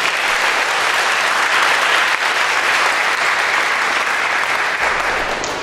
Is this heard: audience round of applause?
yes